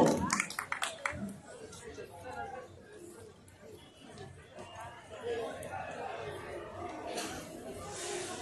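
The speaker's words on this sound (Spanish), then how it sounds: "Una vez más, fuertes sus aplausos." Audience at a Marinera dance exhibition during the Fiesta de San Juan Bautista in San Pablo, brief crisp clapping at the start fading into loud crowd chatter and hubbub.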